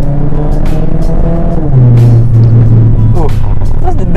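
A remapped 1500cc four-cylinder car accelerating, its engine note rising in pitch across a few seconds, close and loud, with people talking over it.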